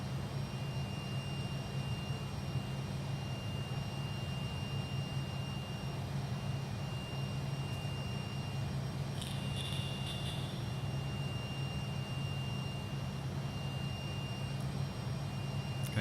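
Jet engines of a Fokker F28 in a flight simulator hum as a steady, even drone through an ILS approach, a constant low roar with a faint high whine and no talking.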